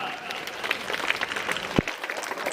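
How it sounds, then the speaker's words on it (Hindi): A crowd at a Holi Milan gathering bursts into brisk applause, dense clapping for a couple of seconds with some voices mixed in. "एक बार जोरदार तालियों से अभिनंदन कीजिएगा कालिदास महाराज जी का।"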